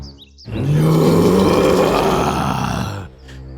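A cartoon lion in a children's bedtime story animation lets out one long, loud, rumbling roar lasting about two and a half seconds, close and alone.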